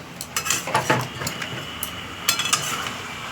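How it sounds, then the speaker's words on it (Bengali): A spoon scrapes and clatters inside a wok while stirring katwa data chorchori, a drumstick curry, with a quick burst of metal knocks, a pause, then a few more close clinks. "আস্তে করে এটা নাড়তে হবে কেননা এক কড়া তো এটাকে নাড়িয়ে নাড়িয়ে"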